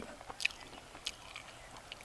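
Crunchy, close bites and chewing of raw banana root, a few sharp crisp snaps scattered over quiet mastication, faint overall.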